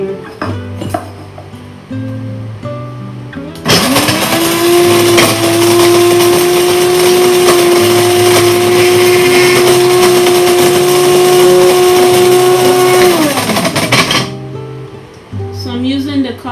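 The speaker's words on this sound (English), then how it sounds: "I'm using the coffee grinder to do it." A coffee grinder pulverizes smoked dried mushrooms into powder in one steady high whirring burst of about ten seconds, loud and close, with someone talking before and after it.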